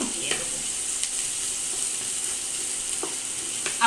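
Onions browning in hot oil ahead of spiced chicken for kosha chicken give off a steady, close sizzle with a few faint clinks of stirring.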